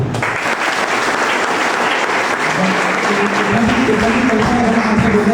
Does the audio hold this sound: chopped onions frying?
no